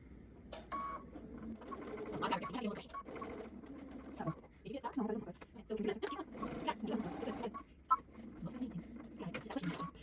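A sewing machine runs over the pleats of a fabric face mask in short, quiet bursts, with someone talking over the stitching.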